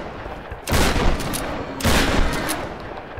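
Gunfire aimed at an animal in the Tomb Raider video game: two loud, dense bursts of shots about a second apart, each rolling into a sustained crackle over a steady game background.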